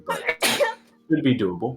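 A single loud sneeze up close, set between bits of conversation as people talk before and after it.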